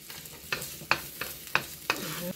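Onions with ginger frying in a hot pan, stirred with a utensil in several sharp scraping strokes over a soft continuous sizzle.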